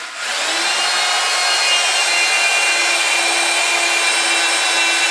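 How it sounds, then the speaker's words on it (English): A power drill whines steadily at high pitch as it bores a hole through a steel knife blank, one continuous loud grinding run with no voices. "Now we're going to drill a hole right here."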